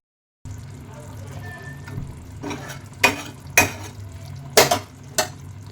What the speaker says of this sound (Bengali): এই আমুলের ফ্রেশ ক্রিম দিয়ে নামিয়ে নেবো। চলো দিয়ে ভালো করে মিশিয়ে নেবো